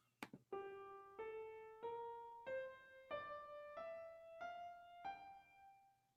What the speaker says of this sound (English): So the first scale is a Dorian scale.